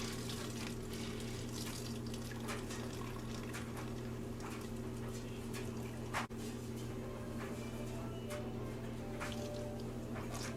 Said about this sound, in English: We're just going to drain that real good.